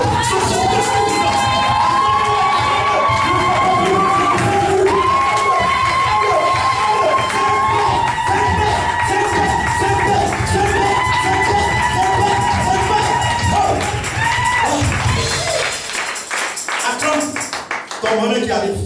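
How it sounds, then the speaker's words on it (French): A church congregation rises to cheer and acclaim a preacher, a loud sustained roar of voices and shouts mixed with clapping and music, fading out near the end. "tout le monde se lève pour acclamer son serviteur de Dieu"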